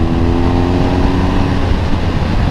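A motorcycle accelerating out of a corner, a loud, steady engine roar close to the recording point with no voices over it.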